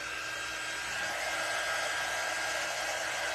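A hair dryer blows steadily and close at moderate volume to dry a handmade Christmas door hanger, a continuous airy whoosh with no breaks.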